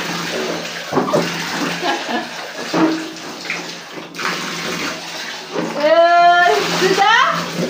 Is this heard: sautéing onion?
no